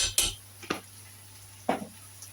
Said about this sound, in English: I'm going to mix everything in well